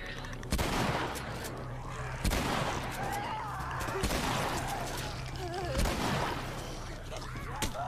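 Four heavy shotgun blasts in The Last of Us, evenly spaced about every one and a half seconds, each loud and close with a short ringing tail, over game ambience and a voice.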